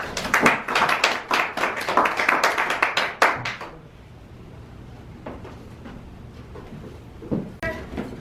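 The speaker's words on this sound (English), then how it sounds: "Let's give her a warm round of applause." A small group at a Toastmasters meeting claps for about four seconds, steady and fairly close, then the clapping stops, leaving a quiet room with a few scattered taps.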